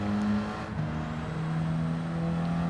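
A Renault Sport Clio's engine held at full throttle in a racing game on a Sardegna stage, a steady, loud, continuous drone with a slight pitch wobble and no gear-change break.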